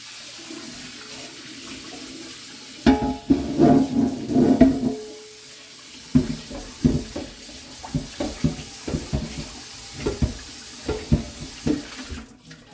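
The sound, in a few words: rinsing a dish under running tap water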